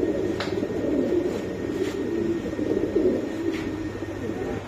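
Pigeons at a pigeon market, including Granadino, Spanish pouter, Lahori and Sherazi breeds, give low, steady cooing throughout, with a few faint higher chirps over a busy outdoor background and no talk.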